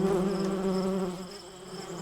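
Dense insect buzzing like bees in flight, a steady droning hum that stays close and loud, then eases slightly toward the end, with no talking over it.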